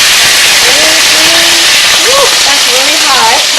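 Flank steak beef frying in heated oil for a homemade stir-fry, a loud, steady broadband sizzle and hiss close up, with a voice talking faintly over it.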